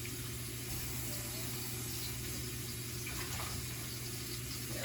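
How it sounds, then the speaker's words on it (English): Tap water runs steadily from a kitchen faucet over washed utensils, a continuous even hiss and splash with no break, close and moderately loud. "Let's just run it under some quick little water."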